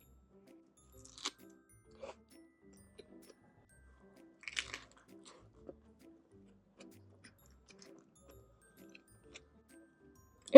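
Soft, close chewing of an egg, tomato and cheese sandwich, with faint scattered crunches and wet mouth clicks spread through a quiet room, sparse and low in level.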